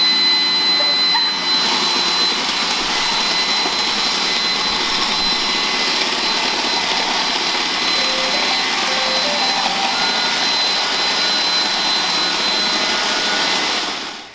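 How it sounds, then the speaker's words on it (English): Several Roomba robot vacuums run together, making a constant, even whirring hiss that lasts the whole stretch without a break. "It's a robot vacuum that cleans your house for you every single day, multiple times a day."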